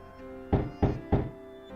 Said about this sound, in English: Let's try knocking.